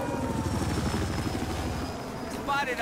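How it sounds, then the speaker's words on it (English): Helicopter in the video game Battlefield 4, a steady loud rotor thump with engine whine filling the whole stretch, close by, with game effects. "Spotted a hostile we got a chopper and a jet going towards out"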